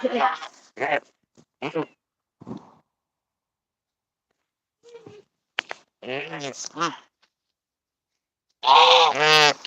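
A goose honks in several loud, harsh bursts near the microphone, scattered across the clip with quiet gaps, ending in a long strong honk.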